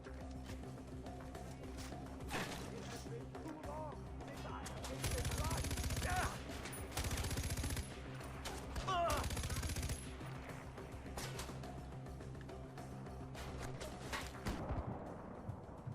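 Automatic gunfire rattles in Far Cry 4, with repeated bursts of rapid shots, several long and loud sprays among scattered single shots and game sounds, while players talk over it.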